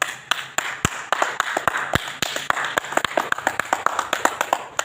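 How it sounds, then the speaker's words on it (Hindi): Separate, distinct hand claps ring out close by in an uneven rhythm, a few people clapping for a child, each clap sharp and clearly spaced rather than blending into applause. "इसके लिए तालियां बजाओ"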